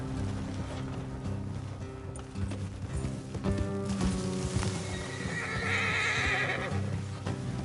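Horses in Red Dead Redemption 2 whinnying and neighing while hooves clop along a road, steady clip-clop under the calls, fairly close, with light ambient game sounds and no talk.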